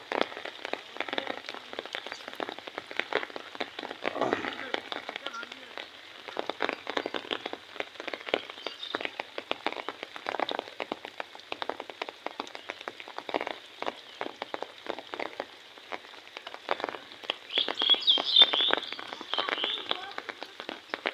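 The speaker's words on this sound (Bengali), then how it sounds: "দেখেন বৃষ্টির অবস্থা কীরকম এখনও পড়তে আছে" Steady rain pours down in a dense, continuous hiss, with a few louder patters of drops; no voices.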